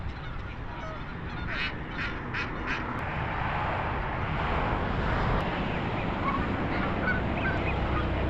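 Ducks honk and quack in a quick cluster of four calls early on, set against a steady noisy outdoor background that carries on afterward.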